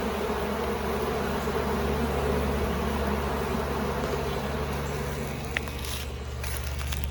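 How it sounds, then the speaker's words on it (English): Honeybees buzz in a dense, continuous drone around a hive box being settled with a new colony, the swarm hum steady throughout with faint outdoor background noise. "Not sure if that's the bees from this hive or if that's the bees from the local feral hive."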